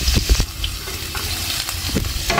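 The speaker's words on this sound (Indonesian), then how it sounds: "Setelah aku cek wajannya udah panas, langsung aja kita masukin bawang putih yang udah aku cincang." Minced garlic hits a hot wok and sizzles loudly and steadily, with a few sharp clinks of a utensil stirring it at close range.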